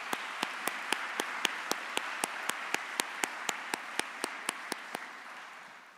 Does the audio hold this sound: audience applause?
yes